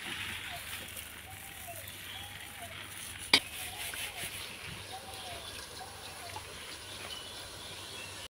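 Gram flour boondi for motichoor laddu frying in hot oil, a steady soft sizzle and hiss running throughout, with one sharp pop or clatter partway through.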